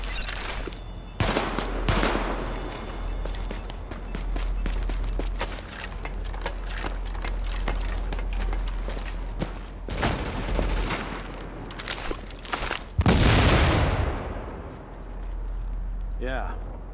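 Automatic and rifle gunfire from a firefight against LMB reinforcements at Grand Central Station in Tom Clancy's The Division, with dense continuous bursts and repeated sharp reports throughout, a heavy boom near the middle, and radio-style voice chatter mixed in.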